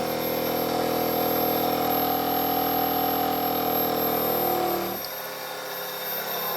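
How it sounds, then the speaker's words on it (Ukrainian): A small electric motor driven by a resonant coil circuit whirs steadily with a sustained hum and high whine, then abruptly drops off and winds down near the end; no talking. "і двигун починає набирати оберти"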